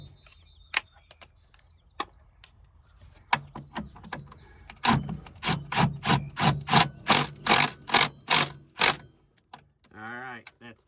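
Wrench torquing sockets on an extension, a run of metallic ratcheting clicks and knocks that builds into a rhythmic series of strong clanks, close and fairly loud, with scattered handling noises around it.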